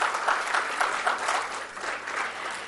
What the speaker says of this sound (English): First, you please give yourself a very big round of applause.